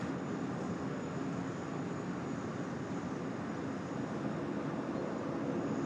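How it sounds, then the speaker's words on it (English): A QantasLink Boeing 717 takes off at Sydney Airport, heard as a steady, fairly distant broadband engine roar that holds evenly throughout, with no voices. "That is a long takeoff roll"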